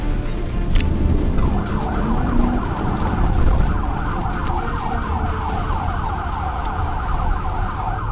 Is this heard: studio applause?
no